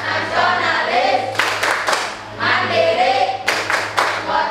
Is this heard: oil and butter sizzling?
no